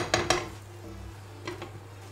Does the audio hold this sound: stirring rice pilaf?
yes